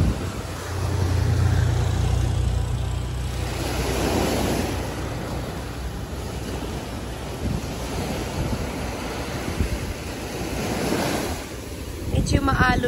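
Sea waves roll onto the shore on a windy, rough morning. A continuous roar of surf rises and falls, mixed with heavy wind buffeting the microphone.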